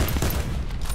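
Gunfire in Call of Duty Black Ops 4 on the Nuketown map, a brief loud burst of rapid shots blending into a continuous rattling crackle.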